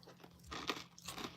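Crunchy granola is chewed close to the mic in a few quiet, crisp crunching bites with no talking.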